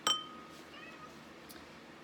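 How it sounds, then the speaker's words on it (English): A house cat gives a short meow, sharp and close at the start, followed by fainter tonal chirps and a light clink in a quiet indoor room. "It's my cat."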